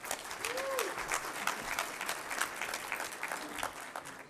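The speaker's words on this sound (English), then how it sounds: "let's give him a big round of applause" Audience applause at the DefCamp 2018 security conference, many hands clapping in a steady, moderately loud wash with sharp individual claps standing out, a few faint voices mixed in underneath.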